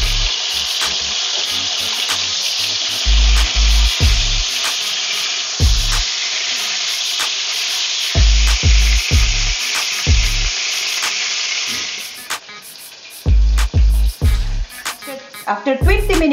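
Pork belly pan frying in hot oil, a loud, constant sizzle broken by bursts of louder crackling and spattering, with a few clattering knocks toward the end.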